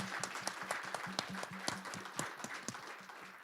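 A seated audience applauds panelists and a moderator after a community conversation event, heard as steady, fairly faint clapping from a small crowd with a few sharper individual claps standing out.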